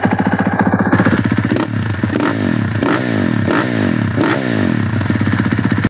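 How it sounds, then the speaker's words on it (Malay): Freshly rebuilt four-stroke engine of a 2023 KTM SMR450 supermoto with an expansion-chamber exhaust, idling and blipping close by with rapid pulsing firing and a few revs, loud and alone. "itulah bunyi engine yang baru rebuild"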